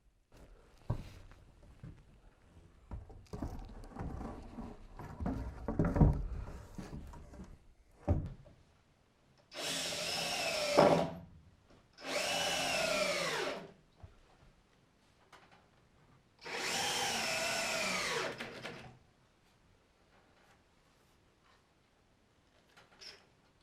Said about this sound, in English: While I was screwing that 2x8 in, I went ahead and screwed in the tub